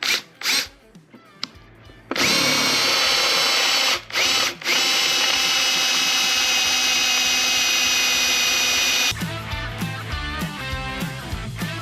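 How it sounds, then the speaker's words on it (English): A cordless power drill bores through a snowmobile ski on a 2002 Ski-Doo MXZ 600, a loud steady whine with brief stops and restarts, then a rougher, rattling grind near the end; no talking. "So it might be actually easier to drill from this side"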